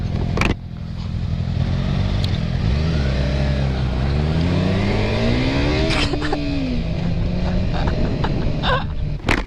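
Motorcycles racing each other on the road, engines revving hard with rising pitch sweeps as they accelerate through gears, loud and close, with sharp bursts and pops between shifts.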